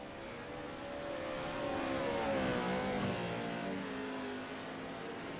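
Off-road race trucks battling for the lead in a heat race at Crandon, engines droning at a distance and swelling louder as they pass, then fading slightly.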